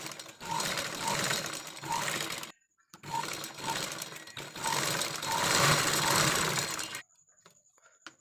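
A sewing machine zigzag stitching a fall onto a saree, running in close, steady bursts of rapid mechanical clatter broken by short pauses, with no talk.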